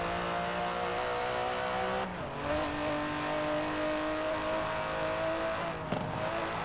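An Aston Martin DB11 engine hums steadily while the car is driven in Forza Horizon 4, with a brief gear-change dip partway through and a small bump near the end.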